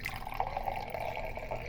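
Water drips and trickles faintly through a filter while beetroot and carrot juice is strained, a soft, continuous patter close by.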